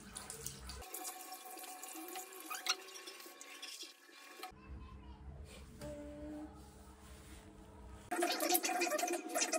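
Water runs from a tap into a sink in bursts while someone washes their face and brushes their teeth, the stream starting and stopping close by, with a voice speaking between.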